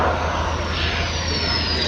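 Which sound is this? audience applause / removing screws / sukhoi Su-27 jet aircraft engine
sukhoi Su-27 jet aircraft engine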